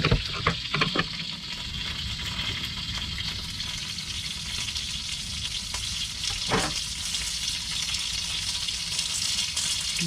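Pot stickers frying in a regular skillet on medium-high heat, giving a steady close hiss and crackle of sizzling oil with a faint scrape near the start.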